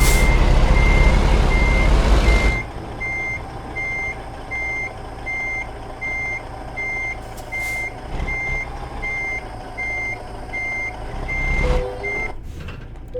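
A truck in American Truck Simulator backs onto a trailer, its reversing alarm beeping in a steady regular rhythm over a low engine rumble, after a loud opening burst and with a hiss and clunk near the end.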